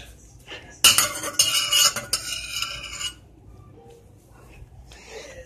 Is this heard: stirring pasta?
yes